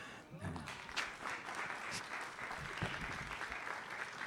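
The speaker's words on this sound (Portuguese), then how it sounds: "Vocês estão aplaudindo aí?" An audience claps in a dense, sustained round of applause that stays fairly even throughout, heard from within the crowd.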